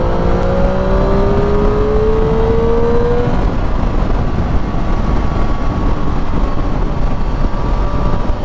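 A 2024 Triumph Street Triple 765 RS motorcycle on a test ride: a loud, continuous engine drone that climbs in pitch early on, then holds steady amid dense wind and road roar.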